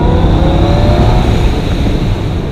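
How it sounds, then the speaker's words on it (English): A Mercedes-Benz SL55 AMG with a supercharged 5.4-litre engine accelerates hard, giving a loud, close, continuous engine roar with a rising tone over a couple of seconds. "So Herr Wall, you have built a hell of an engine."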